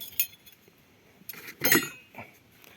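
Metal spoons and forks clink and rattle close by in a few short bursts, with one louder jangle near the middle.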